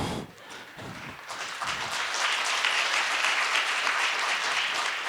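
A church congregation claps together during a Hindi prayer talk, sparse taps at first, then swelling into sustained, dense applause that fills the room.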